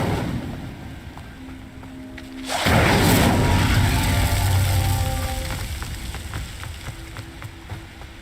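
Incendio fire spell cast in Hogwarts Legacy, a sudden loud whooshing burst of flame that roars for several seconds and slowly fades, over quieter background game sounds.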